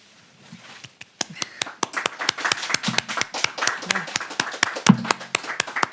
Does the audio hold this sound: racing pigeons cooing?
no